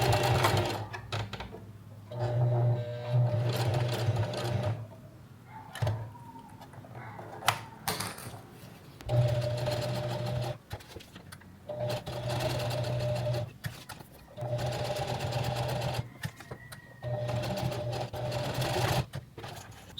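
A sewing machine stitches a square into nylon fabric in repeated bursts of fast, steady mechanical whirring, stopping and restarting with brief pauses and clicks between runs, close and loud.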